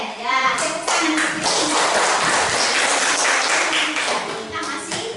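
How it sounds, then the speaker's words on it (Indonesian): Students clapping together in a classroom, a quick burst of dense applause lasting several seconds, with children's voices mixed in and a teacher's speech at the edges. "Ya, tepuk tangan."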